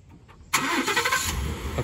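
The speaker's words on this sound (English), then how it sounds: "See if we can get this thing to start." A 2016 Ford F-150 XL engine fires up abruptly and runs at a loud, steady idle, heard up close after a brief quiet moment.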